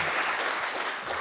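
A conference audience applauds the event's engineer, a dense, even round of clapping from a full room, heard without voices.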